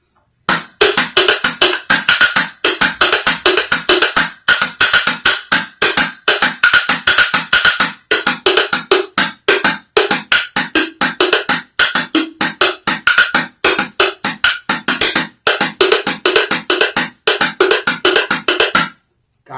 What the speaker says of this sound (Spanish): Y la cajita suena así